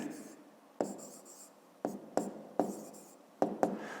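Pen strokes scratching across paper while a fifth-grade math simplification exercise is written out by hand, a series of short close scrapes with sharp onsets at irregular intervals.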